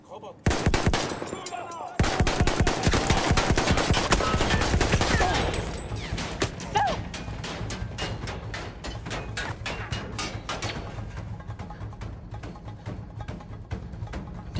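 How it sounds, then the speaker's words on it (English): Gunfire in Battlefield 1, loud rapid automatic bursts dominating the first half, then scattered single shots and distant battle ambience continuing to the end. "Do you hear those bullets fired?"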